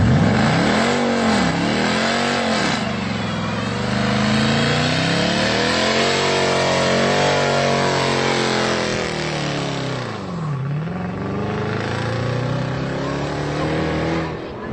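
A car engine revs hard and continuously, its pitch swooping up and down in long, loud waves, like a sustained burnout close by.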